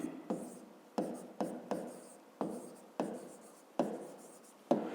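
Chalk or marker strokes on a board while math notes are written, about nine distinct short scratchy bursts in an irregular rhythm, close and fairly quiet, with no talking.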